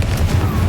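A Confringo fire spell exploding in the video game Hogwarts Legacy, a single short, deep boom with a rumbling low burst, loud and close.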